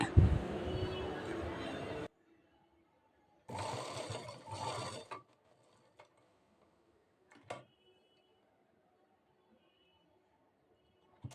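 A sewing machine stitches the square neck of a princess cut blouse in two short bursts of close, rapid mechanical whirring, separated by quiet pauses with scattered small clicks.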